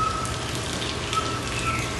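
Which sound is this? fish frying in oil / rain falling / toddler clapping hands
rain falling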